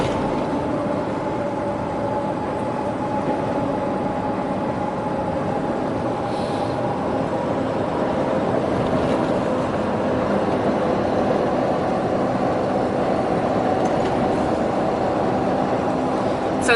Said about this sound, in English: Check out these trains.